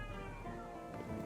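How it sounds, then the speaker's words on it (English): A cat meows inside the medieval game Kingdom Come Deliverance 2, one short cry set against a dense, steady bed of game ambience and background noise. "Cat noises."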